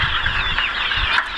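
A local chicken clucks softly in short repeated bursts over a faint background, close by, brief.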